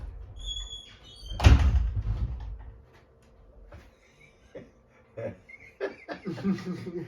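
A door thuds shut with a loud low knock early on, followed by quieter rattles and clicks as voices talk and chuckle nearby.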